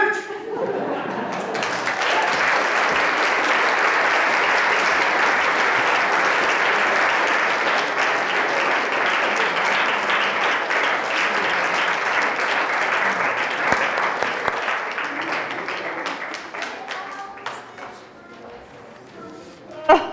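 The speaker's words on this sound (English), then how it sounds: "And with their coach, Jan, please give them another warm round of applause." A crowd applauds loudly and steadily for many seconds, the clapping slowly thinning and fading out, with a few scattered claps at the end.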